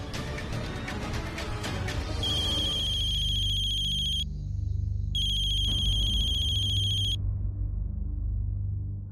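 A telephone rings in a domestic TV drama scene, a bright electronic trill sounding in two long bursts separated by a short gap, clear and close with a low hum underneath.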